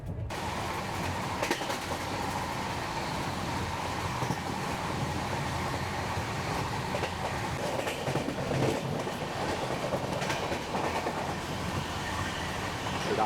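Passenger train 13125 Kolkata–Sairang Express running on tracks, heard from inside as a continuous loud rumble with rhythmic clickety-clack of wheels over rail joints and occasional faint squeals, with no voices.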